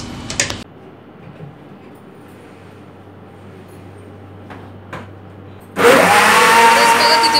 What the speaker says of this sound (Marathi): आता हे आपण मिक्सरला फिरवून घेऊ पटकन